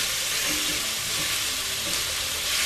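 Leg of lamb browning in a hot pan gives a loud, steady sizzle and crackle of frying fat, continuous and close with no pauses.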